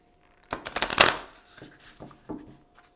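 Oracle cards are shuffled by hand in a quiet room, a quick riffling flutter followed by a few softer taps and slides of the deck.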